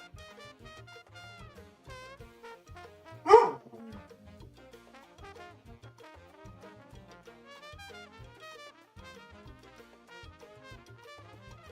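One sharp, loud dog bark bursts out near the start, a single isolated yap over a quiet continuous musical background.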